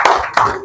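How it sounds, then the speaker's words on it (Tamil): Hands clap at a political rally backing a DMK candidate in Tambaram. Three distinct, loud claps land at an unhurried, roughly even pace, close by and not masked by speech. "கைதட்டுங்கப்பா"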